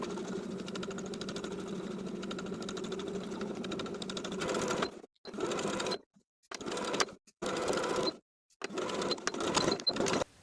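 A sewing machine stitches in the ditch around the waistband of classic summer shorts, running steadily and close for about five seconds, then stopping and starting in short bursts with brief silent gaps between.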